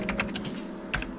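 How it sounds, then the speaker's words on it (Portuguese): Computer keyboard keys clacking under typing fingers, a quick irregular run of close, crisp taps with a short pause before a final burst, heard alone. "Rangem teclas sob meus dedos."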